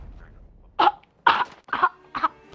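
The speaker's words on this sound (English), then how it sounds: "I just coughed on him." Four harsh, close coughs come in an uneven sequence with short gaps between them, one person coughing during an online Call of Duty: Modern Warfare tournament match.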